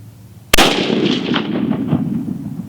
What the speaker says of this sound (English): we're gonna shoot until we hit it